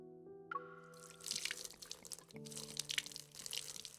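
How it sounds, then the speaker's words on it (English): Water trickles and drips in the Love and Deepspace video game, soft wet patters and faint flowing sounds layered over a sustained low musical tone that shifts partway through, quiet and close. "Cool water continuously seeps into the soil and reaches my roots."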